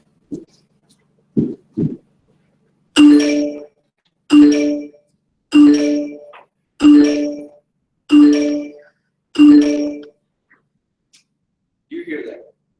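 A short electronic phone notification chime repeats several times in an even rhythm, clear and prominent, with a few softer tones before and after.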